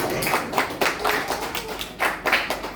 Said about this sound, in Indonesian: tepuk tangan buat yang maju